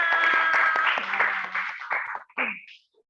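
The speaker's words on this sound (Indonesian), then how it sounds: "tepuk tangan untuk kita semua" A classroom group led by a teacher breaks into dense, lively clapping that fills most of the moment, then thins into a few scattered claps and a short voice-like sound before fading out.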